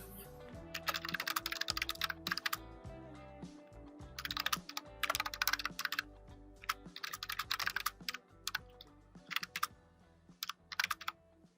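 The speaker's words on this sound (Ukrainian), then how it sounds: "Дане значення вводимо з клавіатури." Someone types on a computer keyboard in quick bursts of crisp key clicks, separated by short pauses, close and clear with no talking.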